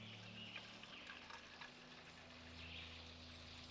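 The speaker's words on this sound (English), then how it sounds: "I'm gonna go fill up these 2 water bottles" Water pouring into two water bottles at an outdoor drinking fountain during a wilderness camping trip, a faint continuous trickle over a low steady hum.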